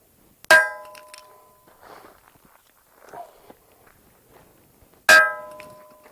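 Sig P365 XTech Tactical pistol magazines are dropped onto a hard surface, making two sharp metallic clangs several seconds apart, with faint rustling and shuffling in between.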